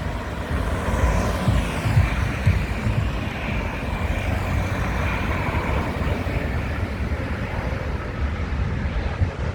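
A British Airways Airbus A350 at London Heathrow produces a loud, steady jet engine roar close by, holding a broad rushing drone with a slight whine throughout.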